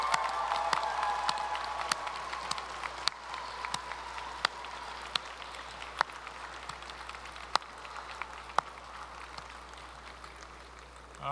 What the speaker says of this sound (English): give a big shout out and a hearty round of applause to the family and friends and loved ones